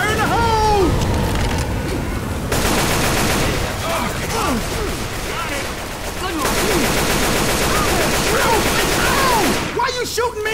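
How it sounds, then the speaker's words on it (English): Continuous heavy gunfire in Left 4 Dead 2, rapid automatic shots rattling densely and loudly throughout, layered with game noise and occasional voices shouting. "Why are you shooting me?"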